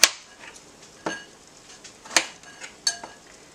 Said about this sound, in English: Now we're just going to cut them up and throw them in this bowl.